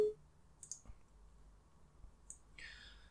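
A few sparse, soft clicks of a computer mouse come through a quiet room, spaced irregularly with a brighter click near the end, and no one speaks.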